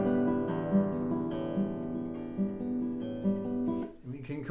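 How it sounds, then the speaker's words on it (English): An instrument plays an arpeggio of sustained ringing notes that starts loud and fades gradually quieter, ending with a brief noisy shuffle as it stops. "We can start loud and get quiet."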